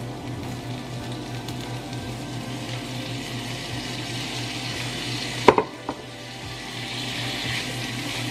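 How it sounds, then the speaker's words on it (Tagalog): Jackfruit (langka) sautéing in a pan, a steady low sizzle and frying hiss throughout, with a couple of sharp metallic clinks from a utensil midway, no talking. "unahin ko ngayon igisa yung langka"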